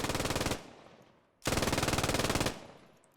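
MG42 machine gun in the Post Scriptum video game, at a Carentan encirclement realism event: two long sustained bursts of rapid automatic fire, each about a second, separated by a short gap with fading echo.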